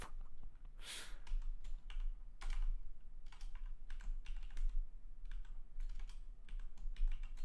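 Rapid keystrokes clatter on a computer keyboard, close and steady with irregular bursts and brief pauses, over a low background hum, with no voices.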